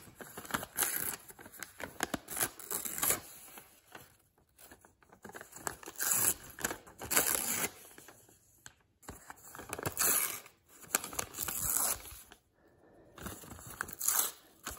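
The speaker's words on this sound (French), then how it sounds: "on va couper les bords du papier" Scissors cutting the edges of paper, giving repeated crisp snips and rustling paper crinkles in bursts separated by short pauses, close and fairly quiet.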